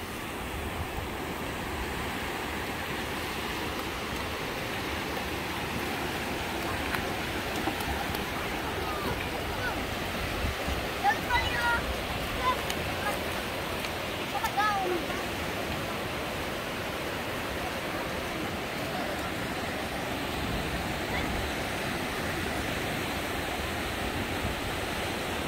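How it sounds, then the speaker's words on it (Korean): Ocean surf rolls onto the sand at Dadaepo beach in Busan, a continuous broad wash of breaking waves, moderately distant and steady, with slight swells in loudness. "예, 파도 소리가 상당히 좋습니다."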